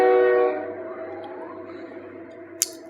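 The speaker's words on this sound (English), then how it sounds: "Let's wait for the train to pass, shall we?" A passing train rumbles with a steady low drone, starting with a loud horn-like tonal blast that fades after about half a second, followed by a continuous rolling noise and a short sharp clank near the end.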